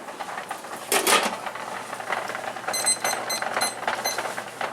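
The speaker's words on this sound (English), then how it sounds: "Start the timer." During home pickle-making in a kitchen, a timer sounds a few quick bursts of high electronic beeps, set against soft clattering of pots and utensils.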